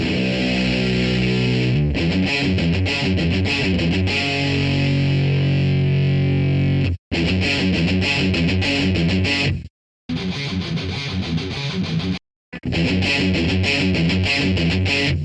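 Heavily distorted electric guitar with a metal tone built from stock REAPER plugins plays chugging riffs with sustained chords, loud and up close, stopping briefly for short silences between phrases.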